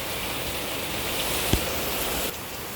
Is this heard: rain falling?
yes